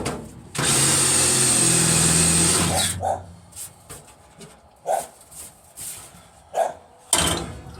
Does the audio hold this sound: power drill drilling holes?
yes